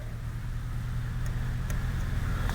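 A motorized bicycle fitted with a copy of a Russian-style engine runs steadily nearby, giving a continuous low buzzing drone with faint ticks above it.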